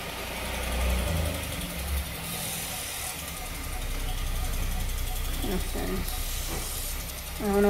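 A two-car garage door mechanism clanks and ratchets with a mechanical drone while a car engine idles in the background. A few brief faint sounds rise toward the end.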